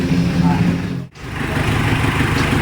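A Mitsubishi L300 engine idles steadily close by with a rough, even drone, dipping briefly before resuming at the same level.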